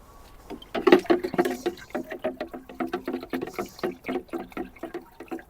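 A whole watering can of water mixed with Tomorite plant food is poured over a tree fern, giving a rhythmic patter and splash of irregular pulses, close and moderately loud.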